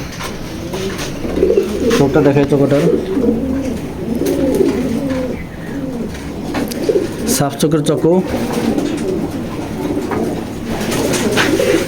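Racing pigeons in a loft coo in repeated soft, rolling phrases, close to the microphone, while someone talks over them at intervals.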